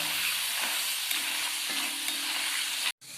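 Raw jackfruit chips fry in hot oil with a steady, dense crackling sizzle that continues evenly, broken by one brief silent gap near the end.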